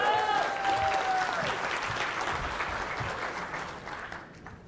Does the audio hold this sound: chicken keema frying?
no